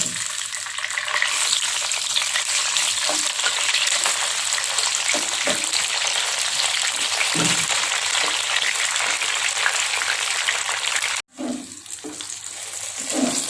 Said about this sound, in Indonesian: selanjutnya saya goreng dulu ini terong.